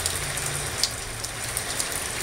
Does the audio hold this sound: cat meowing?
no